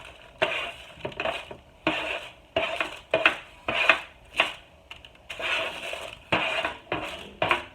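Roasted vegetables tipped into a pot of homemade tomato soup, a series of close scraping, clattering bursts of metal against pot, irregular and separated by short pauses.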